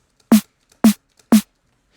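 Synthesized snare drum built from filtered white noise in Phase Plant, pushed through two stages of heavy saturation distortion: three loud, sharp, bright hits evenly spaced about half a second apart, each short and punchy with a tonal body, alone with no talk.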